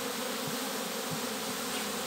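Honeybees swarming around a hive box as a new swarm splits off, a dense continuous buzzing hum near the listener, steady and unbroken with no talk.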